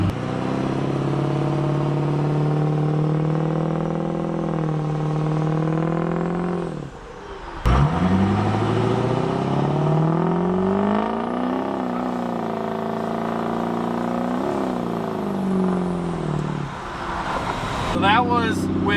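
A Ford 6.0 Powerstroke diesel truck with a bed stack, windows down, accelerates in two loud runs, the engine note climbing steadily each time with a brief dip and gear change between them.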